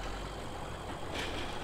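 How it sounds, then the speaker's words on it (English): A tractor engine in Farming Simulator 2017 idles with a steady low rumble and hiss, unbroken and fairly close, with a brief airy puff near the end and no voices. "Switch the tractor off."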